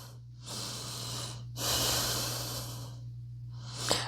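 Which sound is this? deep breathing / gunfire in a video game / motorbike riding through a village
deep breathing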